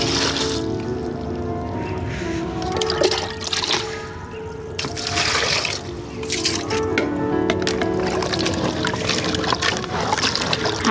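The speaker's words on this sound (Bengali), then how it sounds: "এখন দেখা যাচ্ছে এই বালতির মধ্যে সব কিছু কালকে কুটে নিয়েছিলাম, এগুলোকে ধুয়ে নেব" Water sloshing and splashing in a bucket as chopped vegetables are washed by hand, with irregular swishes and trickles close by in a small home kitchen.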